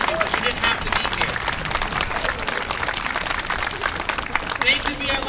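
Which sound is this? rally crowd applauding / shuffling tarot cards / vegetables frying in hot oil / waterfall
rally crowd applauding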